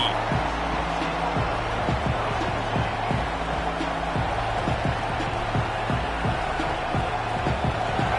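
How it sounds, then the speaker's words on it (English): A football stadium crowd at a USC vs Michigan game fills the air with a dense, steady roar of cheering, constant and loud, with a commentator's voice faintly under it. "This crowd ready to make its presence known."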